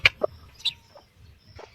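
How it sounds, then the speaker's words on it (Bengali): A desi hen with day-old chicks lets out a few short, sharp clucks close by, spaced irregularly with quiet gaps between them. "এটা দেশি মুরগি"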